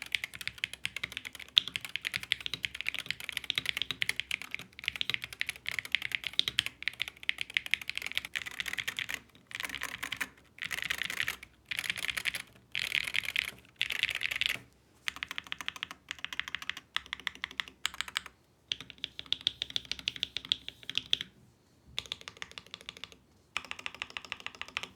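Steady typing on a Lamzu hall effect keyboard, close and crisp, with rapid clacking keystrokes in bursts broken by short pauses and no voice.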